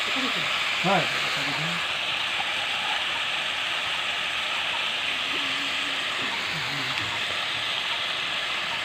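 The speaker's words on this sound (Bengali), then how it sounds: "সরিষার তেল দিয়ে পেঁয়াজ ভাজতে আছে" Onions fry in mustard oil for a taro-stolon curry, making a constant bright sizzle. A voice speaks briefly over the frying.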